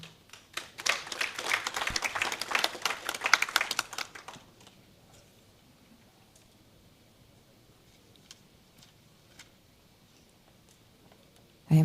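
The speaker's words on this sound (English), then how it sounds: "Ladies and gentlemen, a hand of applause to Ms." Audience at a data conference claps for a speaker, a burst of hand clapping for about four seconds that quickly fades to quiet room tone with scattered small noises.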